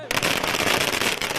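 Firecrackers burst in a dense, rapid crackling barrage as fans celebrate a film release outside a cinema in Erode, loud and close with crowd noise mixed in.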